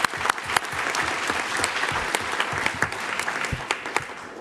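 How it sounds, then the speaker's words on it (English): Audience applause at a city council meeting, steady clapping from a room of people lasting several seconds, moderately loud with individual claps standing out near the end. "So can we give them a round of applause,"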